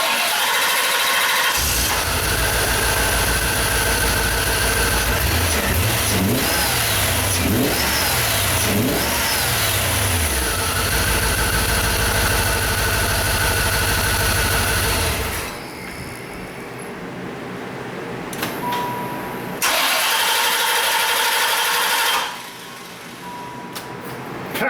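A Chevy Corvette with a hot no-start fault fires on a shot of brake cleaner, cranking and then running roughly with loud, close, uneven revving surges that sag and catch again before cutting out, then a short second burst.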